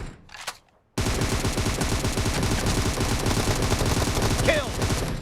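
Sustained rapid gunfire in a shooting video game, a loud dense burst of shots that starts abruptly after a brief quiet opening and continues to the end.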